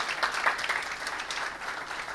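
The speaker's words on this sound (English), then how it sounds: "round of applause, please." An audience at a tech meetup talk applauds after a presentation, a steady wash of many hands clapping at moderate volume throughout, with no voices over it.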